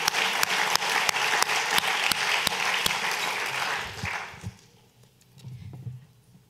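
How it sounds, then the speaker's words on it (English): Audience applause at the 2011 IWEC Awards at Asia Society in New York fills the room for about four seconds with a few sharp individual claps, then dies away into quiet with scattered faint noises. "another round of applause"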